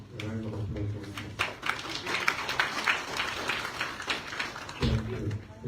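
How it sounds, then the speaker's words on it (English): Modest applause at a press conference on an AU, ECOWAS and Commonwealth preliminary statement, scattered claps from a small audience, with brief speech at the start and near the end. "Kindly, a round of applause for it."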